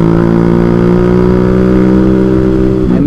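Motorcycle accelerating hard to overtake on a road, a loud close engine with a steady buzzing harmonic drone that rises in pitch near the end, no talking.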